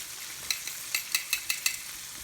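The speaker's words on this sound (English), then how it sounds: "So we'll just let that fry." Buttermilk-battered chicken thighs and legs fry in hot oil with a soft steady sizzle, broken by several sharp crackles and pops, fairly quiet and with no talk.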